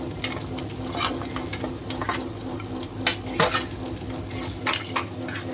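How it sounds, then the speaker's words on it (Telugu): Bottle gourd pieces frying in a pan while being stirred, with a steady low sizzle under repeated scraping and clinking of a utensil against the pan, several sharper stirring knocks standing out near the end. "ఇప్పుడు వచ్చేసి సొరకాయ ముక్కలు వేసి వేయించుకుందాం"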